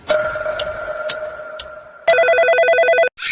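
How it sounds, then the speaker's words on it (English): A telephone on the floor of an apartment rings with several electronic bursts, loud and close, ending in a faster trilling ring, with no one speaking. "Suddenly, the phone on the floor rings, destroying the silence as if it were a gunshot."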